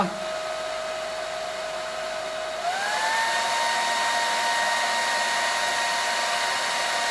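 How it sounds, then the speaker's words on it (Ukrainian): A 2 kW hair dryer powered by an EcoFlow River Max station runs steadily with a loud airy whoosh and whine, its pitch rising partway through as the power is turned up. "скидаю і додаю потужність фену"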